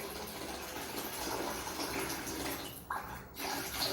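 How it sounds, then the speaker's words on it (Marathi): Water poured over washed sago makes a soft, continuous rushing stream with a brief pause near the end, moderately close and with no talk. "जरा एकदाच धुवायचं आणि पाणी घालून ठेवायचं"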